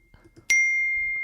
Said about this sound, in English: These are supposed to be little dings that happened.